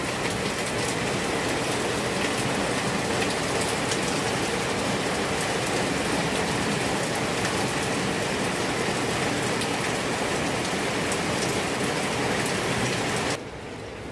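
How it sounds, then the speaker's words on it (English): Steady rain falling outside in a village, a dense continuous hiss of drops on surfaces, loud and even throughout before dropping suddenly near the end. "Ooh la la, and the rain outside."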